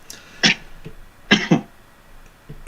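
A few harsh coughs, one sharp burst followed by a quick double cough, close and fairly loud, with quiet moments and a faint final cough.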